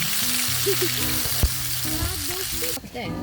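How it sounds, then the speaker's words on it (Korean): Oil spatters and sizzles steadily as shrimp fry outdoors at a seaside campsite while rain drops fall; the crackle is continuous and close, with a brief word spoken over it. "빗방울이 떨어져가지고 기름 튀고 난리도 아닙니다 지금"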